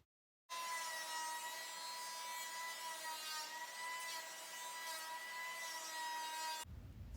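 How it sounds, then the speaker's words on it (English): Lumber pieces cut from an epoxy resin mold run through a planer, a steady loud buzzing whine with rich harmonics that starts abruptly, holds for about six seconds, then cuts off. "run the pieces through the planer to get a smooth,"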